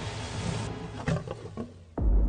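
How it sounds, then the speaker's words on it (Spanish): A big wild cat lets out a powerful roar: rough, throaty bursts under a noisy background, then a sudden loud, deep blast at the end. "si nos negamos a escuchar su potente rugido"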